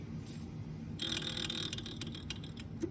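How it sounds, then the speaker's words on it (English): Worn bearing rubbing inside a Haas VF3 CNC machine: a faint mechanical whirring with ratchet-like scraping and clicking, steady and close, with no voices. "Really good bearings on there, but that was slightly rubbing."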